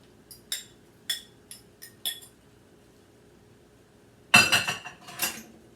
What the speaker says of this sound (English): And I'm going to fold in the cantaloupe like this.